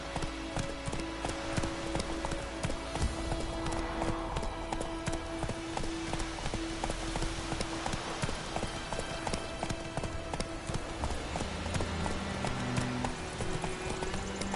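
A horse galloping in The Witcher 3: Wild Hunt, rapid steady hoofbeats pounding close and loud throughout, with brief voices over it.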